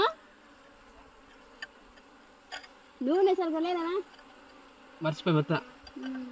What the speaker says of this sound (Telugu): ఈగలు చూడండి ఎలా ఉన్నాయో